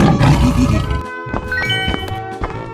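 A tiger in a 3D animal sliding video game gives a loud, close roar followed by crashing game effects and brief bright chimes, all within under three seconds.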